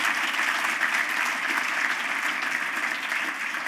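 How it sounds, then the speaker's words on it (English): Steady round of applause from an audience at a city presentation event, dense continuous clapping with no talk over it, even and sustained throughout. "Let's give her another round of applause."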